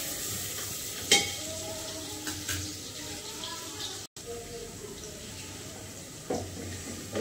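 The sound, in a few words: onions frying in a pan for biryani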